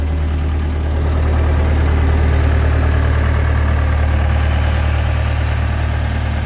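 A JLG 600A boom lift engine idles loud and close with a steady, low diesel rumble that holds evenly from start to finish.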